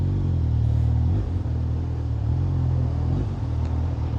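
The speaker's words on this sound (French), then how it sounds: "Le camion est en manœuvre" Truck manoeuvring in a street, its diesel engine idling and grumbling in a steady low drone that briefly dips and shifts as it moves, heard from nearby.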